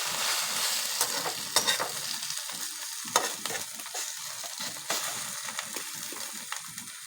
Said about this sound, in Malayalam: ഇനി നമുക്ക് മുട്ട മറിച്ചിടാം.